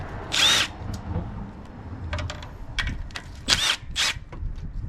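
A power drill whirs in short, separate bursts as it takes off a 10mm nut on a 2007–2012 Honda Civic. Light clicks and handling noises fall between the bursts, all close by and fairly faint.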